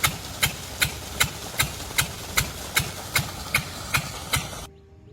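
A steady water pump engine thumps along in a regular beat, roughly two pulses a second, with a clattering knock on each stroke, then cuts off abruptly near the end.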